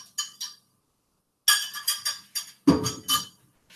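Mashed bananas going into a butter mixture in a mixing bowl, heard as a series of light clinks and taps of utensil against bowl, close and clear, in short bursts with pauses between.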